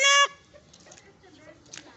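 A single loud, harmonic chicken squawk at the start, cutting off abruptly, followed by faint background chatter and soft rustling.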